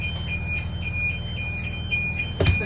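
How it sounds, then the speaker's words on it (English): School bus rear emergency door warning buzzer, a steady chain of short, evenly spaced high beeps sounding alone over a low idling rumble, ending with a brief knock. "I can hear the buzzer."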